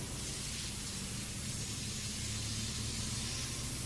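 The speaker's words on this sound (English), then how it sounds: "Keep spraying the ceiling here." Steady hissing spray from a fire hose pouring water onto a ceiling during a firefighting game in EmergeNYC, a continuous broadband rush with a low rumble underneath, no talk.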